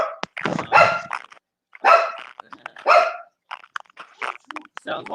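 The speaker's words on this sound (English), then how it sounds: "let's get the dogs barking to polish it off" Dogs barking in a home during an evening stream, several loud bark bursts with echo, interspersed with a person talking.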